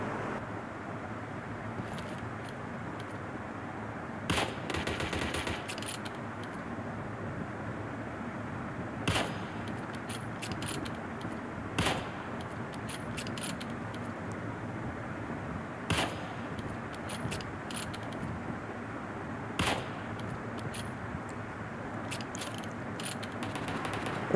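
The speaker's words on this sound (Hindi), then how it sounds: "यहाँ पे बहुत ज़्यादा फायरिंग हो रही होती है" Gunfire in the mobile battle game PUBG Mobile: scattered single shots and short bursts at moderate distance, irregularly spaced over a constant ambient bed.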